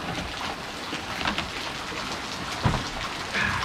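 Steady, dense hiss of heavy rain pouring down without a break, with a few louder splashes and knocks standing out briefly.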